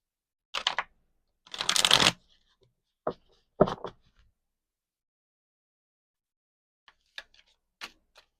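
A deck of tarot cards is shuffled in quick riffling bursts close by, followed by a few soft taps and card clicks in an otherwise quiet room.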